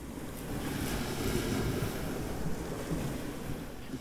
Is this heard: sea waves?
yes